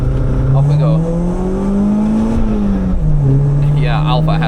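A Ford Fiesta ST150 accelerates on a Nürburgring lap, its engine drone climbing steadily in pitch before a brief dip at a gear change and a renewed pull, loud and close inside the cabin.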